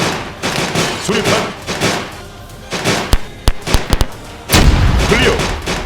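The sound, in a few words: grenade explosion amid gunfire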